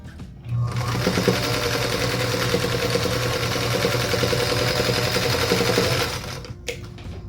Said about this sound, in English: So now we'll sew those together. Again, using a 1/4 inch seam allowance.